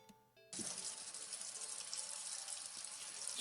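Water bursts from a sink tap into a basin and keeps running in a steady, loud gush. A faint tonal hum precedes it.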